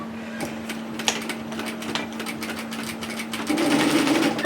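A sewing machine stitches the underarm seam of a Belle Robe dress along the overlocking line, running in a steady fast whirring rattle close by, with a brief bump early on and slightly louder stitching at the end.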